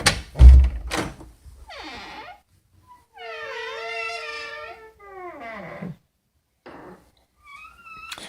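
Bathroom door hinges creak through several slow opening and closing swings, one long groaning squeal sounding like a low ship horn, with a few thumps at the start and short squeaks near the end, close and fairly loud.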